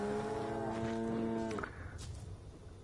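Cows in the video game The Greyhill Incident let out a single long, close moo that ends abruptly, followed by quieter ambient background noise.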